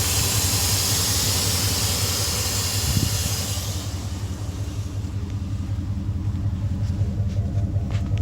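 A Dodge Dakota SLT Quad Cab with the 4.7L V8 idles with a steady low rumble, joined by hiss that fades after a few seconds, leaving an even, close engine drone.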